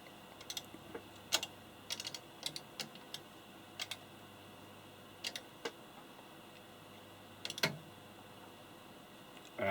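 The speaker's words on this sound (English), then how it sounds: "Switch the generator back on and type in 118 megahertz." Quiet button presses on a signal generator keypad as a frequency is keyed in: scattered light taps and clicks in small irregular groups, close but faint, with no talking.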